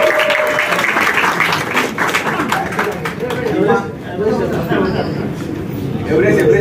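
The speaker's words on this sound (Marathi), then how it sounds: "थांबा ना, जोरदार टाळ्या होऊन जाऊ द्या सगळ्यांसाठी." Audience at a BOYZ 3 film trailer launch claps steadily and loudly, with chatter and a voice mixed into the applause throughout.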